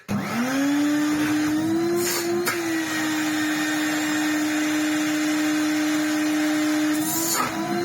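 A 1987 Numatic NV200 vacuum cleaner fitted with an older motor switches on and spins up to a steady loud whine, holding a constant tone with brief bursts of airflow noise near the start and end.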